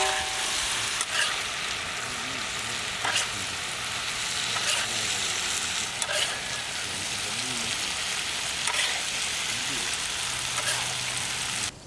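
Chicken sizzles and crackles steadily on a hot tawa for a Mumbai-style tawa pulao, with a spatula scraping and stirring at intervals throughout.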